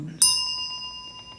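A single bell at a Buddhist sutra lecture is struck once, sharply and loudly, then rings on in clear, pure tones that slowly fade.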